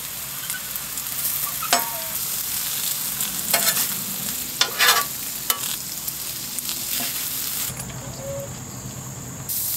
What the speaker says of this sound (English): You want to saute some spinach for mine.